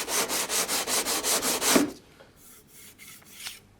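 A slot car track piece rubbed back and forth on sandpaper laid flat, about eight quick rhythmic rasping strokes close by, then quieter scattered scrapes and handling noise.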